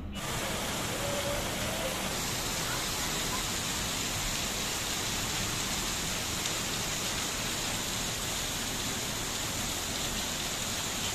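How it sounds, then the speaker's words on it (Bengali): Steady, heavy rain hisses continuously, a dense even wash of drops with no other sounds standing out. "বাইরে বৃষ্টি পড়তেছে।"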